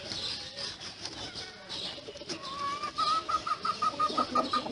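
Soft clucking and pecking from Brahma chickens up close as they eat greens, with rustling and a faint high chirp, fairly quiet and continuous.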